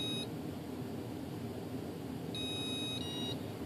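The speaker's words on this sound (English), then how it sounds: "Several beep tones should be emitted" Faint electronic beep tones from an RC glider's electronic speed controller, a short high chirp at the start and a few more clustered near the end over a steady background hiss.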